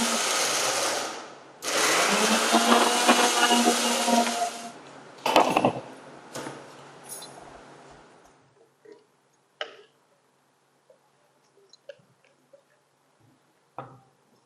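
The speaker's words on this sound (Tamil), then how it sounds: "வெங்காயத்தை மிக்சியில் 1-2 ஒரு சுற்றி நம்ம எடுத்துக்கலாம்" Onions coarsely ground in a kitchen mixer grinder, heard as two loud whirring bursts of the motor, each a few seconds long, followed by quieter clicks and taps as the jar settles.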